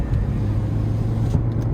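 A cheap used car at a dealer auto auction pulls away on a test drive, its engine giving a steady, loud low rumble and road drone that holds evenly throughout with no voices.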